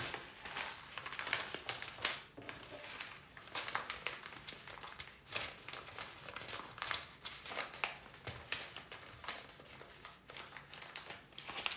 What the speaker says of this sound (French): Et maintenant, nous allons fermer notre enveloppe.